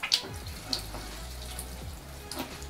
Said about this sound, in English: when I actually press the pump, I'm not actually using a lot of force now. I'm just using a little bit, and there's a lot of water coming out